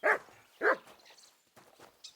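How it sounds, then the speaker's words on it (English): A dog barks in the video game Kingdom Come: Deliverance II, two sharp close barks followed by softer yips and whimpers, heard alone without talk. "are you barking at, Mutt?"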